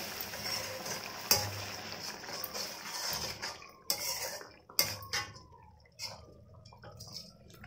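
Paneer gravy with spices gets stirred in a pan, with a spoon clinking and scraping against the metal in irregular knocks and clatters, close by and without talk.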